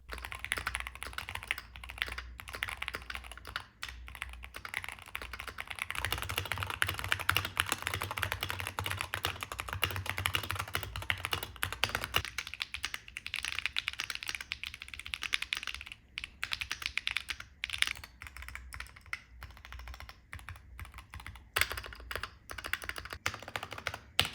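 Fast, continuous typing on a mechanical keyboard, dense clacky keystrokes close up with brief pauses, no voices.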